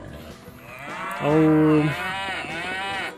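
Cows in Survivalcraft 2, running the ModPro 2.2 mod, give a single loud, drawn-out moo that rises and holds before trailing off, with the game's ambience underneath.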